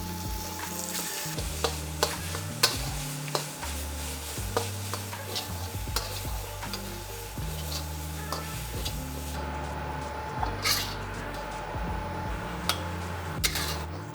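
Seasoned pork sizzles in a little oil in a wok while being stirred, with steady frying hiss broken by frequent sharp clicks and scrapes of a utensil against the pan, close and loud.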